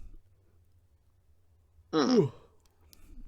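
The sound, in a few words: yawn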